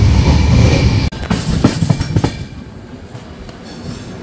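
The 15777 Tourist Express with a Vistadome coach runs on rails toward Hasimara station, loud rumbling wheels with a sharp jolt and clattering clicks before easing into a steadier, quieter roll.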